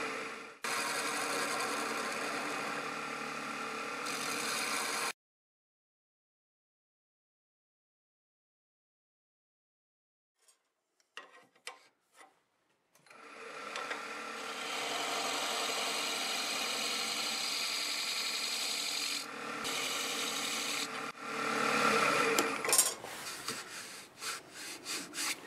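Wood lathe turning a segmented vortex twister piece with a small carbide tool ground to a negative rake, a steady scraping hum in two long runs split by a silent gap with a few faint knocks.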